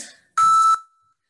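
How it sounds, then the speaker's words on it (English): A workout interval timer during a bodyweight bootcamp session gives a single sharp electronic beep, loud and clean, following a fainter tone just before it. "When you start hearing those final 3 second beeps, it means it's the transition time."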